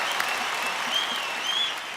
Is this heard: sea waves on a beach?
no